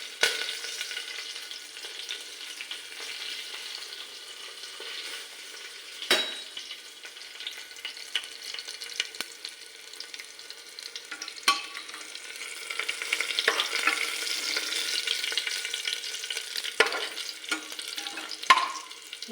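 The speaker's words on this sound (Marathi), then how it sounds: "कढीपत्ता पण टाकूया। लाल मिरची टाकायची।" Curry leaves and red chilies sizzle and crackle in hot oil in a home kitchen, a steady close frying hiss with sharp pops and occasional stirring clatter, no voices.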